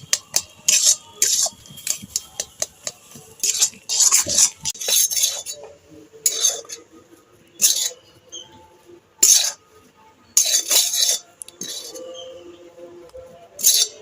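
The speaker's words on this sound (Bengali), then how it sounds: "এবার এইভাবে নাড়তে থাকবো আর একটা শক্ত ডো তৈরি করে নেব" Stirring stiff nikuti sweet dough in a wok over low heat, heard as irregular metallic clinks and scrapes of a spatula against the pan, loud and close, separated by quiet pauses.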